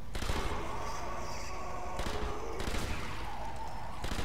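Dense, close gunfire from Sniper Elite Nazi Zombie Army, a continuous barrage of overlapping shots and booms with no quiet gaps.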